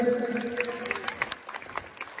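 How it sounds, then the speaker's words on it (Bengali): An audience at a stage event in Ranaghat breaks into applause. The scattered, uneven handclaps are moderately loud and follow a brief voice at the start. "জোরে হাততালি হবে"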